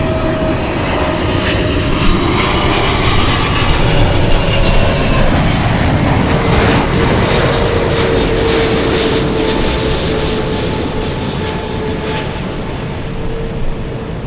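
A Cathay Pacific airliner lands at LAX, its jet engines producing a loud, steady broadband roar that swells gently and holds for the whole stretch, with no talk over it.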